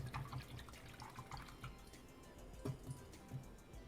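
A paintbrush is rinsed in a small container of water, giving faint, close swishing and light tapping clinks against the side, quiet and intermittent, with no voices.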